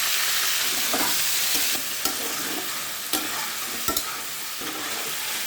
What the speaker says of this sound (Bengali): আলু ভাজার তেলে এবার মুরগির মাংস ভেজে নিব।